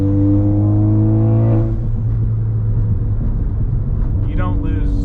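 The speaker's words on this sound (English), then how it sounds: "you can hear how amazing that turbo sounds inside the cabin" Inside the cabin of a Ford Focus ST fitted with a big turbo, the engine drones steadily with a rising whistle and whoosh, while a person talks over it.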